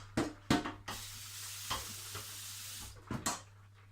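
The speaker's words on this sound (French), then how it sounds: "je secoue un peu la casserole pour mettre les petits morceaux en mouvement, et hop, on verse" A saucepan of plant dye is shaken with a few short scraping rattles, then water pours in with a steady hiss. A couple more knocks follow at the end.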